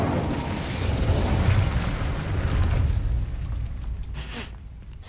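The Incendio fire spell cast in the video game Hogwarts Legacy bursts out as a loud, rumbling whoosh of flame that holds for several seconds before easing into a fading crackle.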